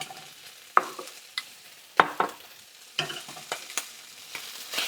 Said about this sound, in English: I'm gonna mix it maybe a couple minutes